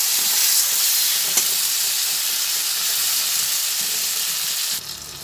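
Ginger paste and spices frying in a pan for a potato and pointed gourd curry, a loud, steady, close hiss of sizzling oil with a faint knock, easing off near the end.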